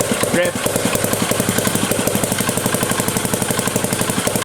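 A transparent two-stroke combustion engine with fully variable valve actuation idles at about 750 rpm, giving a steady, rapid, even mechanical chug that stays loud and close from start to finish.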